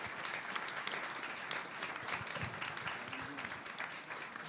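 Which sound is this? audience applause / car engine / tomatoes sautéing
audience applause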